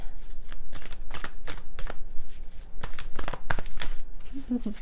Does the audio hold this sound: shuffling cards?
yes